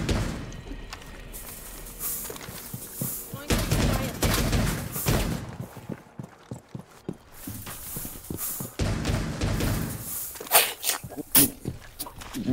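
Gunfire tears through walls in Rainbow Six Siege, with a Valkyrie shooting holes in the wall. Bursts of shots and impacts come in irregular clusters, some near and loud, with clattering debris in between.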